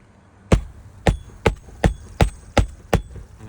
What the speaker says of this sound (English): So for me to nail this and swing this hammer